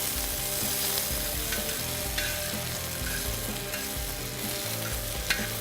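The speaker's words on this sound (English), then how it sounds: "Make sure you move those onions and peppers around nice and neat in your olive oil." Onions and peppers sizzle steadily in olive oil on a FireDisc grill while being stirred, a loud continuous fry with faint scraping, and no voices.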